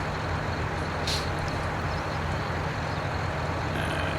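A truck in Farming Simulator 19 rumbles steadily with a constant low engine drone and a brief hiss that suggests braking, loud and unbroken throughout.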